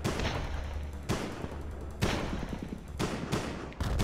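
Rapid bursts of gunfire from the side-scrolling game Stickman Run N Gun, loud repeated shots in clusters with sharp onsets about once a second, over a steady low game soundtrack.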